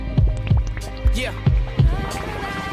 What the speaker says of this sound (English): Feel the heartbeat on your eardrum